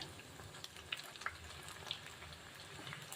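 Cauliflower florets for gobhi chilli frying over a high flame and being flipped in the pan, giving a soft continuous sizzle with a few light clinks of the turner, no talking.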